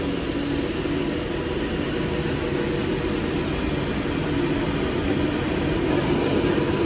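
Avanti West Coast train departing Stockport station for Manchester Piccadilly, a steady low rumble and rolling drone of wheels and engine that holds loud and continuous throughout.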